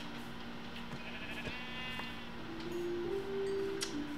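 A sheep in the Minecraft video game bleats a few times in quick, wavering calls over quiet game ambience and small ticking clicks.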